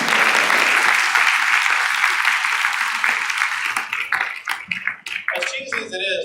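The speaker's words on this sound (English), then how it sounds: "another round of applause" Loud, sustained audience applause at a school winter band concert, dense clapping that gradually thins out and fades toward the end.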